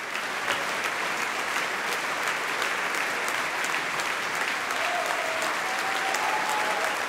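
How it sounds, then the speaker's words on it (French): Sustained, dense applause from a large indoor concert audience after a Richard Strauss oboe concerto, steady and loud throughout with no pauses. "Des applaudissements très chaleureux ont salué l'interprétation du oboïste François Leleu"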